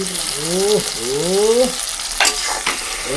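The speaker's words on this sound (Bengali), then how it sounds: "এটা টমেটো আর এই যে পেঁয়াজটা একটু ভালো করে ভেজে নেব" Tomato and onion fry in a pan for chicken curry, giving a steady loud sizzle with stirring scrapes, while a rising and falling whine rings out twice near the start and a couple of sharp clinks follow.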